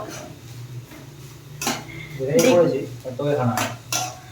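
A spatula scrapes and clatters in a pan as ingredients fry with ginger and garlic for a home-made chicken soup. Sizzling runs underneath, with brisk bursts of stirring and a voice speaking now and then.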